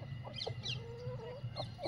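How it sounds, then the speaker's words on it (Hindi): Kadaknath chickens on a desi poultry farm give short repeated clucks and a drawn-out call, fairly close and moderately loud over faint background noise. "कड़कनाथ मुर्गा है"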